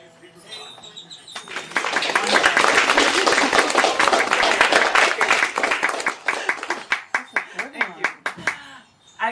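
A room full of people at a poetry reading bursts into applause that swells and holds for several seconds, then thins into scattered individual claps.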